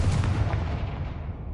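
A Confringo fire-blast spell in Hogwarts Legacy on PS5 goes off as one deep, loud explosive boom that rumbles and fades over about a second and a half, with no voices.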